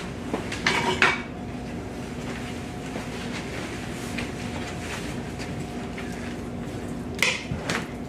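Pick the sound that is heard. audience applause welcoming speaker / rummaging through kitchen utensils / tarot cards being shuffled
rummaging through kitchen utensils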